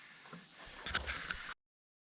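A spray can lays down black 2K epoxy primer on a 1982 VW T3 single cab under restoration, a steady close hiss lasting about a second and a half before cutting off abruptly.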